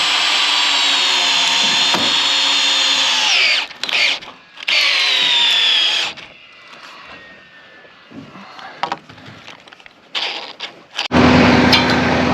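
A power driver sinks structural screws into solid fir beams on a house framing site, with long loud whining bursts that labor and pitch down, separated by short pauses and a quieter stretch of low rumble.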